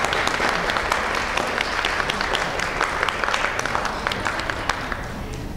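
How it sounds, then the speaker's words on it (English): An audience at a Woman's Club of El Paso gathering applauds standing guests of a historical commission, with dense, steady clapping from many hands that holds for several seconds and tapers slightly at the end. "would you please stand and let us give you an applause?"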